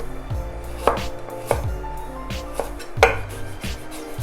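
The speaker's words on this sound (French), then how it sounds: "Hop, on va émincer le gingembre" A knife finely chops fresh ginger on a cutting board, a handful of sharp, irregular knocks close by over a quiet kitchen background, with one brief spoken word.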